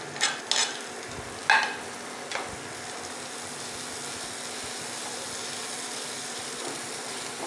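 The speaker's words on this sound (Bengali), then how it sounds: "একটু বাড়িয়ে দেবো রসুন কুচিটা একটু হালকা ভেজে নেবো" Chopped garlic and green chili frying lightly in a pan, a continuous soft sizzle with a few sharp utensil scrapes and clinks near the start, no speech.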